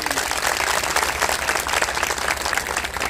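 A crowd at a Shiv Mahapuran religious discourse claps loudly and continuously, a dense crackling applause that stays steady throughout with a low hum underneath.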